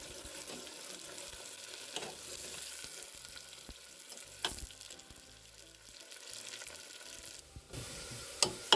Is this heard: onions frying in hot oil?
yes